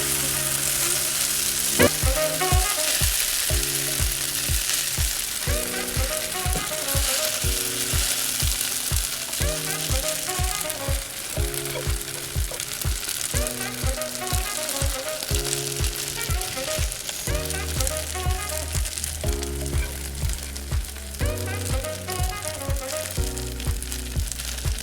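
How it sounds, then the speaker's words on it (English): Japanese pan-fried noodles sizzle loudly in a hot pan, a continuous crackling hiss with rhythmic musical tones running underneath. "That is the sound that I was saying, the sizzling sound."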